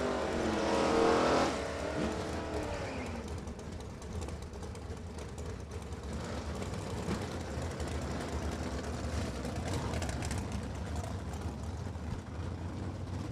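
Hot rod race cars at a Beech Bend test-and-tune drag strip: a loud engine roar with a Barracuda's wheelspin opens, then a sustained distant motor drone carries on underneath.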